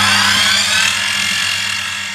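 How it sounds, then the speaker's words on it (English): A centre drill bores a starter hole in metal for a trigger guard, giving a steady, close, high-pitched whine with a low hum beneath, continuous and alone throughout. "Using a centre drill, which is a drill that's extremely stiff, it won't deviate, it will go exactly where you point it at."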